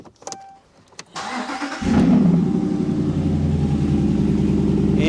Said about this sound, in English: let's crank the truck and we'll see what our scope pattern looks like now